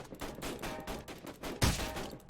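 A QBZ rifle fires full-auto in Rules of Survival, rapid bursts of gunfire rattling in close succession with a louder, denser burst near the end, moderately quiet overall.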